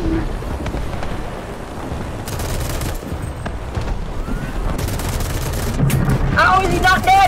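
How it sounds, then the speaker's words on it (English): Rapid gunfire in a war video game, continuous bursts of shooting that stay dense and steady, growing slightly louder toward the end, with a brief high tonal effect near the close. "I kept shooting him and kill his gunner, kill his driver."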